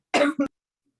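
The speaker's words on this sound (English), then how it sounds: "I'm gonna have to cough again, sorry." A single close cough, a harsh burst followed by a shorter second catch, then silence.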